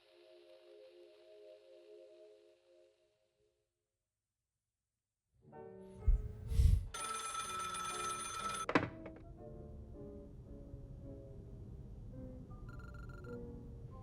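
A telephone bell rings loudly and insistently after a brief quiet in a tense horror drama, a sudden harsh burst with a heavy thunk, then continuing low rumbling ambience.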